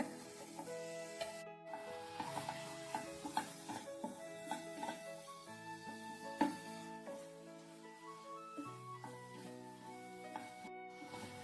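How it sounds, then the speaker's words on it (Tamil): A spoon scrapes and stirs a coconut burfi mixture of grated coconut and sugar syrup in a pan, soft rhythmic rubbing sounds with light sizzling, fairly quiet beneath steady background music. "கொட்டிட்டு அப்படியே கிளறி விட்டுருங்க"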